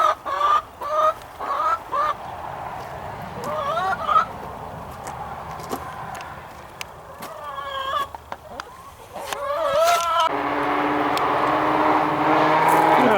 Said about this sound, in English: We got more chickens coming.